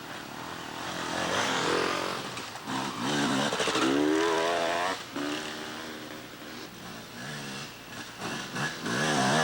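A dual sport motorcycle carrying two riders passes at a brisk pace on a gravel trail road, its engine droning and revving steadily and loudly close by throughout.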